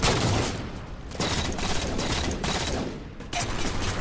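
Teammate gunfire in Halo, a dense crackling volley of shots pulsing in loud bursts with short gaps, no talk.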